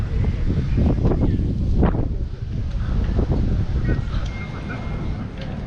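Heavy wind buffets the microphone on a wavy seashore at Çanakkale, a loud continuous rumble with gusty surges, while voices speak faintly underneath.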